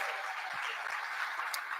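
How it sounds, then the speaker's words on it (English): Audience applause at a spring sports award night in Tempe, a steady dense wash of clapping from a crowd that holds evenly throughout. "Let's give it a round of applause"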